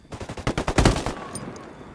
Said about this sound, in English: Dropping mortar.